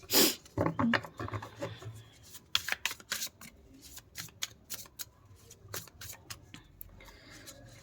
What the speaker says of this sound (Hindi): शफल करते हैं कार्ड्स को और देखते हैं कि क्यों आपके साथ ऐसा होता है